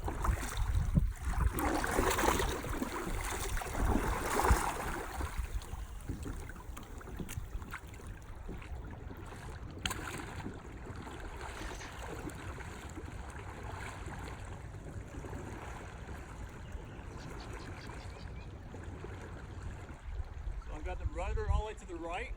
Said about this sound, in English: I'm going to show you guys what it is like to paddle.